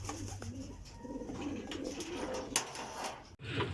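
Soft racing pigeons cooing close by, low throaty murmurs repeating under faint outdoor background noise, with a brief clack near the end.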